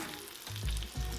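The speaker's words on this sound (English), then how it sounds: "Toss that stick of butter in there." A stick of butter sizzles and crackles in a hot pan with a ribeye steak and garlic, in short bursts of frying that swell twice, close and moderately loud.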